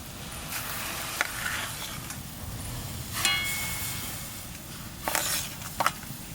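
Rice flour being stirred into boiling water in a pot for a date-jaggery chusi pitha. A steady bubbling hiss runs throughout, broken by a few sharp spoon scrapes and knocks against the pot.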